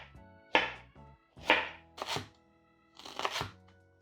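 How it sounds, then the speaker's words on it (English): A knife cuts ginger into julienne strips on a cutting board, giving four separate bursts of close, crisp chopping with short pauses between them. "Peel and julienne some ginger."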